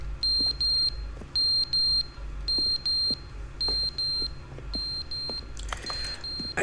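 Electronic beeping from a fallen clock in the video game The Stanley Parable: Ultra Deluxe, with repeated short high-pitched beeps in regular groups, fairly loud over a low rumbling background, ending in a brief burst of noise.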